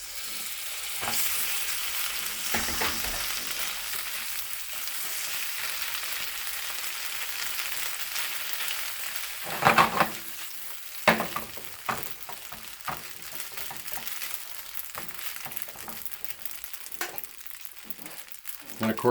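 Noodles tossed into a hot pan with cooked egg for Dragon Noodles, a steady close sizzle and frying hiss with scraping stirs and a few louder clatters of utensil on pan throughout.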